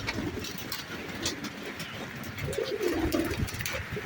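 Pigeons cooing softly nearby, a low throaty coo rising clearly near the end over a quiet background of rustling.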